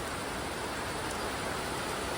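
Rain falls outdoors as an even, dense hiss of steady downpour, constant and moderately quiet throughout, with no voices.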